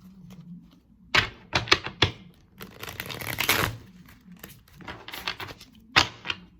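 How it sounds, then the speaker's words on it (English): Soft riffling and flapping of tarot cards being shuffled in several quick bursts, with light taps and thumps in between, close up and fairly quiet. "Give it a good shuffle."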